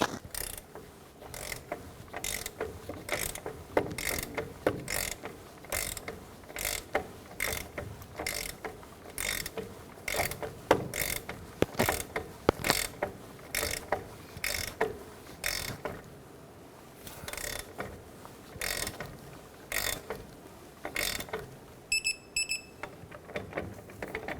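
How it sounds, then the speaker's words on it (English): Rapid ratcheting of a wrench on a 1993-1997 Ford Ranger lower shock nut, with regular clicking bursts repeating steadily and close by, no talking. "let's go ahead and torque down our lower shock nut"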